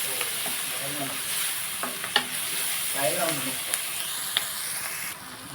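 Onions sizzle in a pan for a dried prawn and egg curry with a constant hissing fry, while a spatula stirs and a voice murmurs faintly in the background.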